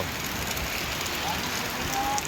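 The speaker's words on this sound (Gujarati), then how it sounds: "વરસાદ જોરદાર ચાલુ છે" Dense, continuous hiss of heavy rainfall fills the scene, steady and even, with a faint voice briefly underneath.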